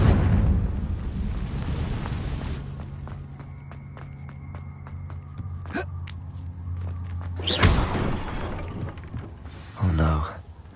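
The Confringo fire spell in Hogwarts Legacy goes off as a booming explosion with a dense low rumble, then further sharp blasts and thuds follow. Game sounds and a voice can be heard around the explosions.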